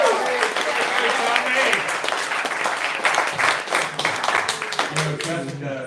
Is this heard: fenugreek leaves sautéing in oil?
no